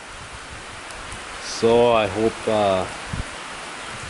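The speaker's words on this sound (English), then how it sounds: "Well, it's raining" Rain falls on a Memorial Day, a steady soft hiss of drops on surfaces running throughout, while someone speaks briefly over it in the middle.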